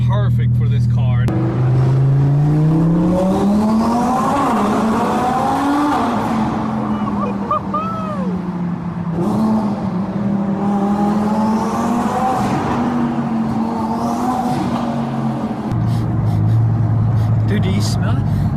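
A 1200-horsepower twin-turbo Audi R8 drives through a wet tunnel, its engine droning loud and close as the revs rise and fall in long sweeps, with tyre hiss and tunnel echo throughout.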